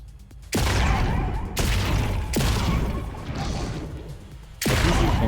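Heavy weapons in the stylized bullet-hell game Kill Knight fire in loud, booming blasts, each followed by a crashing, decaying roar, about five heavy shots spaced roughly a second apart with no talk.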